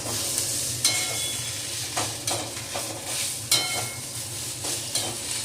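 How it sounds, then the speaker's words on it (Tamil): Curry leaves sauté in a pan for a thuvaiyal, giving a soft, steady sizzle punctuated by occasional sharp clicks and scrapes from stirring, fairly faint and close. "ரொம்ப நேரம் வதக்க வேண்டாம், ஜஸ்ட் ஒரு 2 நிமிஷம் வதக்கினா போதும்."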